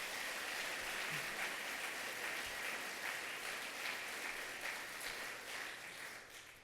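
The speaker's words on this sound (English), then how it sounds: "Let's give our governor a round of applause." Sustained applause from an audience at a public announcement event for Governor Andrew Cuomo, a dense, steady wash of many hands clapping that fades slightly toward the end.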